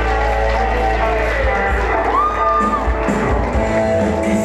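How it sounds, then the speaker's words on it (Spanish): A large audience applauds and cheers loudly, with shouts and whoops rising above a constant wall of crowd noise and sustained tones that sound like music underneath. "con un fuerte aplauso"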